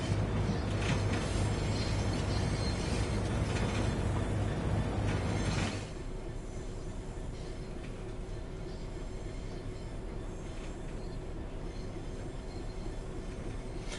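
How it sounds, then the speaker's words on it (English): Creaky train wagons rolling in Train Sim World 3, a dense rumbling rail roar with creaks that suddenly drops to a quieter steady rolling hum halfway through. "Wagons are creaky even."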